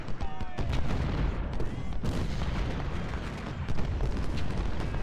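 Cannon booms and crackling volleys of musket fire from the Civil War strategy game Ultimate General Civil War, set at the First Battle of Bull Run, roll on continuously in dense overlapping bursts.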